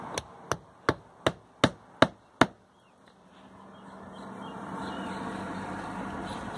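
A hammer drives roofing nails into a shingle, seven quick, evenly spaced sharp taps close by, followed by a rising soft rustle of outdoor background.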